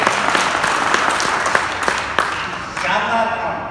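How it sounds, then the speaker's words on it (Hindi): Audience applause for a child at a cement-company stage show: a dense wash of clapping with a few sharper claps standing out, tapering off near the end as it gives way to the background. "ऐसे बच्चे के लिए जोरदार ताली बजाओ।"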